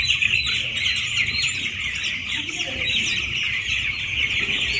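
Twelve-day-old chicks chirp and peep continuously in a dense, steady chorus during Gumboro eye-drop vaccination, with many overlapping high calls close by and no talking.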